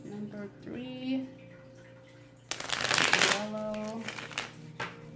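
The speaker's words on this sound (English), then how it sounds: "Let me just shuffle these cards for a pile." A deck of tarot cards is shuffled in a quick riffling burst near the middle, close and crisp, with a person talking before and after.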